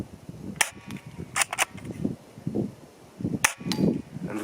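A Steyr TMP Double Eagle fires at a target 10 m away, giving a handful of sharp snapping shots, some in quick pairs, spaced over a low background rumble.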